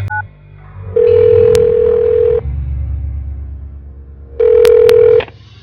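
Phone call in the point-and-click game Art of Murder: a loud steady ringback tone sounds twice with a pause between, over faint low background hum.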